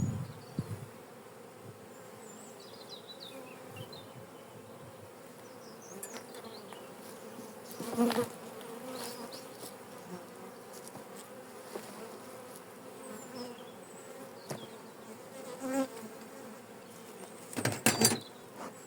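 Honeybees from an open hive being inspected and smoked after wintering drone in a steady, low hum, with a few louder close buzzes as individual bees pass near.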